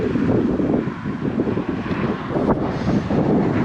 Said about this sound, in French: je vais vous montrer les coups de vent